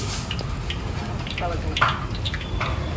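Lentil fritters frying in a pan of hot oil, a steady bubbling sizzle with scattered crackles and a brief louder splash, with a voice talking over it.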